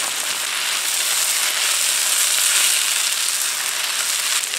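Steady, close sizzling of rice frying in a hot pan, a continuous bright crackle with no pauses and no voices.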